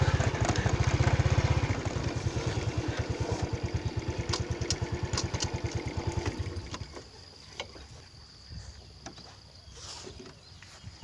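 A motorcycle ridden along a rural path, its engine chugging in a steady close pulsing rhythm that fades somewhat after several seconds, with faint clicks and rattles over the lower hum.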